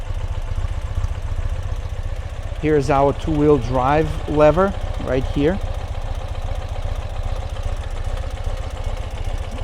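A 2016 Ural Limited Edition motorcycle idles steadily, its exhaust mufflers giving an even, rhythmic low pop throughout. Someone talks close by over the engine for a few seconds.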